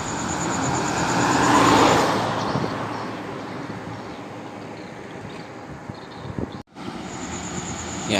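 A Halmera intercity bus swells past and overtakes on an Indonesian road, a broad engine-and-tyre roar that peaks early and then fades into steady traffic rumble, heard with no talk.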